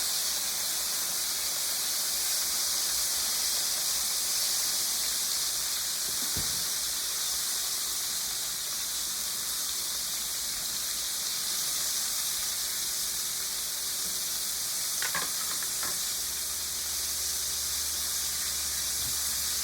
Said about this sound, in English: And you fry it about 2 to 3 minutes on each side.